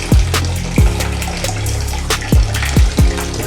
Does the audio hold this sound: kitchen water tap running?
yes